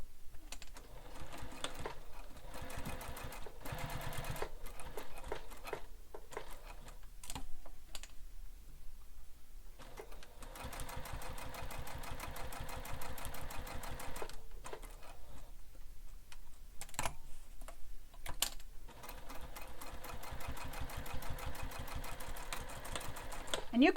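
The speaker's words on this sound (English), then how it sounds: "Now we're going to top stitch around the 3 edges of the flap" A sewing machine top stitches around three edges of a bag flap, its steady mechanical rattle running almost nonstop with a couple of brief pauses, close and moderately loud.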